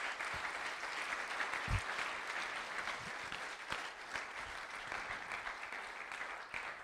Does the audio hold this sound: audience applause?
yes